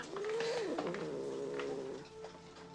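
The cat in the 1979 film Alien lets out a single drawn-out, wavering meow that trails into a softer murmur, faint and alone without talk.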